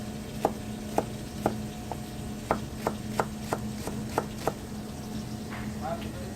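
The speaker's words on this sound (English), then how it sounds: "Just gonna do a fine little mince." A knife finely minces shallots on a cutting board, sending out a dozen or so crisp, close chopping taps in an uneven rhythm over a low background hum.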